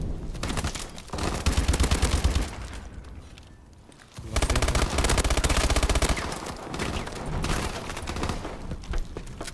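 Rapid automatic fire from a fast machine gun in Call of Duty Advanced Warfare, loud dense bursts in two long stretches separated by a short lull near the middle.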